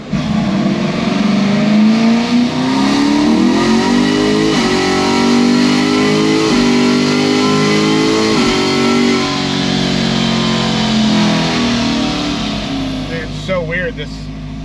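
A car engine revs hard on a dyno with its exhaust valves closed, pitch climbing steadily through a long pull and shifting gears before easing off near the end; the engine note is loud and continuous, with some voices mixed in.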